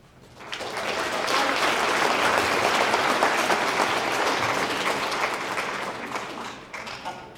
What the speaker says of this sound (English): We would like to remind everyone to hold their applause until the very end